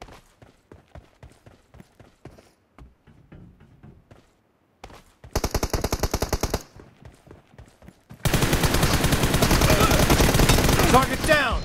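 M416 rifle fire in the video game PUBG Mobile: footsteps first, then a burst of rapid automatic shots, a pause, and a longer, louder sustained burst at close range.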